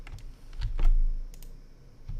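Keyboard keys pressed during After Effects editing work, a few quick close clicks spaced through a quiet room with no talking.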